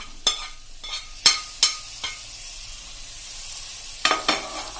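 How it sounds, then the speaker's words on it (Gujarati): Chopped tomato tipped into a hot pan of sizzling spices for spicy seven-grain khichdo, a steady close sizzle broken by several sharp bursts and scraping stirs, with a cluster of crackles near the end. "હવે આપણે એમાં 1 મીડિયમ સાઈઝનું મેં ટમેટું લીધું છે એ નાખી દેશું,"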